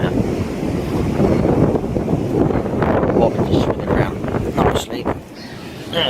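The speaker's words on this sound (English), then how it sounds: "there you go, you can hear the wind now" Wind gusting across a carp fishing lake, a loud, steady roar buffeting the microphone with some surging and lapping, easing slightly near the end.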